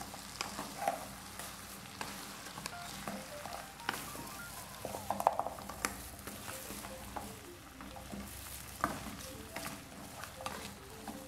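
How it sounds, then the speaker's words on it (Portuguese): A spoon stirs okra into tomato in a hot pan, giving a soft, continuous sizzle and frying crackle close by, with occasional scrapes and light taps against the pan. "E agora é só envolver todo o quiabo na tomate."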